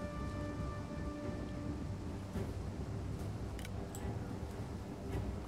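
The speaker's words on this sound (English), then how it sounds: "The rain will also help in case they have fire arrows." Steady rain falls across a Total War: Three Kingdoms battlefield, a constant soft hiss at low level with a few brief crackles, heard under a game music drone.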